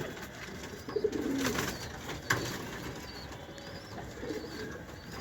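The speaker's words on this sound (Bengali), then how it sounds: "এই যে এটা হচ্ছে একটা সাপচিলা কবুতর আছে" Khoira-neck pigeons coo softly in a Lalbagh breeder's loft, low rounded calls rising and falling over a steady background hum, with one brief louder knock partway through.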